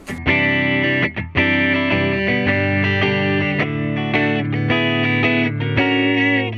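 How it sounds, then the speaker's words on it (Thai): Electric guitar through a Valeton GP-5 amp modeler on a Dark Twin amp model with light, crunchy distortion plays chords and notes, sustained and ringing with a short break near the start. "อันนี้คือไว้ใช้ในกรณีที่เสียงแตกไม่มากนะครับ"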